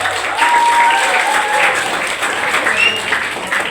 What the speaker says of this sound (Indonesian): Kita beri tepukan aplaus untuk Pak Ismet.